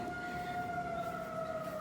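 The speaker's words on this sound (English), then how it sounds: "Yep, the Springfield tornado siren test." Springfield, Missouri tornado siren test, a 2001-model outdoor warning siren sounding a loud, steady wailing tone with a faint rumble beneath it.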